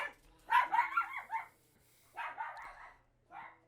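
A dog barks in two or three short, close bursts after a knock on a table is taken for someone at the door, with quiet gaps between the loud volleys and no talking.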